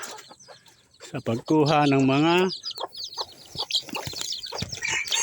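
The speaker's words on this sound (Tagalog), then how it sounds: "Kunin pa natin ang mami. Ang aking inahin." A bantam hen clucks loudly in a burst of harsh, rising calls, with people talking before and after.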